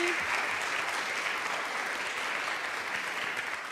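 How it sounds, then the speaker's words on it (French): A studio audience on a French-language TV show applauds warmly. The clapping is dense and steady, fairly soft and slightly distant, and carries on evenly for a few seconds with only a brief voice at the very start. "Vous pouvez l'applaudir encore chaleureusement"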